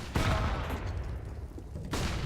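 A grenade blast in a Counter-Strike pro match: a sharp, loud burst of noise, then a rumbling tail, and a second heavy burst near the end, with no talk.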